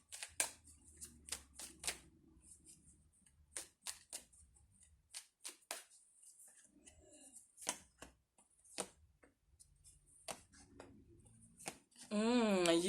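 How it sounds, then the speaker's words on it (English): Oracle cards being shuffled by hand, a run of quick, crisp riffling bursts and soft flicks close by, with quiet pauses between them and a louder rustle at the end. "I'm gonna pull some cards now."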